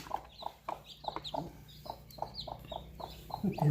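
A hen clucks in a steady run of short, evenly spaced calls at a village poultry yard, close but fairly soft, with a faint louder sound at the very end.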